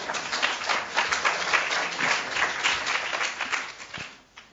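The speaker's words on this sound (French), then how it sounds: "Je vous remercie, avant de leur donner la voix, d'applaudir une première fois les intervenants." An academic conference audience at a university in Grenoble applauds the speakers, a lively round of clapping that swells and holds steady before thinning out and fading near the end.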